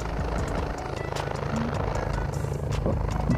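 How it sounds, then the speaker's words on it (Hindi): A helicopter in a video game, a steady low rotor drone holding throughout with no clear rise in level, loud and continuous beneath the scene. "हेलीकॉप्टर आ रहा है कहीं से तो, आवाज़ आ रही है उसकी।"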